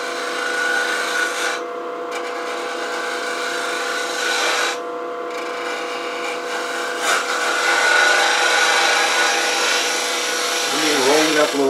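A round nose scraper takes light cuts on wood spinning on a lathe while a coffee scoop is turned, giving a steady, close scraping hiss over the motor's hum with short pauses between passes.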